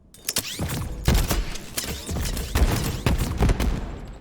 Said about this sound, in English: Artillery will fire bullets in all directions before the last explosion.